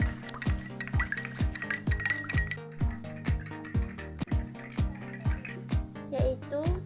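A spoon stirs two tablespoons of salt into water in a glass, clinking against the sides in a quick, steady rhythm, close by.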